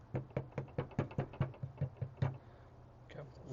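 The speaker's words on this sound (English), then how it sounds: "Just kind of knock off the excess." A fishing jig freshly dipped in powder paint from a fluid bed is knocked repeatedly to shake off the excess, giving a quick run of soft close taps that thins out toward the end.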